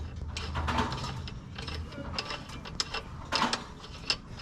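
A ratchet wrench clicks in quick uneven bursts as it loosens the rear axle nut of a 2012 Yamaha V Star motorcycle during a belt-drive rear tire change, the sharp metallic ticks close and fairly quiet, with no voices.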